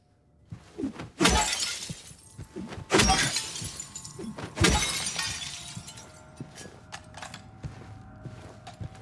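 A mirror in the Silent Hill 2 video game smashes in three loud, bright glass-shattering crashes a second or so apart, each trailing off in tinkling debris before the sound settles into quieter clinks.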